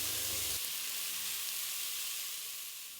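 Food frying undisturbed in a pan, a steady hiss of sizzling oil, close and fairly loud, with a low thump at the very start before the sizzle carries on alone and eases slightly.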